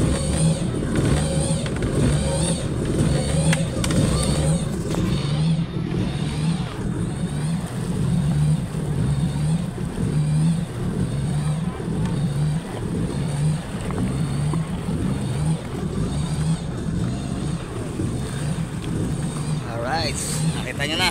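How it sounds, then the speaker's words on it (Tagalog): A freshly rebuilt jet ski engine idles and warms up at sea, a steady loud mechanical drone with low throbbing pulses lasting throughout, while someone talks over it. "So painitin lang natin para ma-break in siya kasi bagong buo lang yung makina guys."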